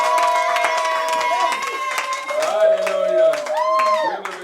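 A church congregation cheering, shouting and clapping in praise of the Lord, loud overlapping voices and ululating cries with hand claps, filling the room.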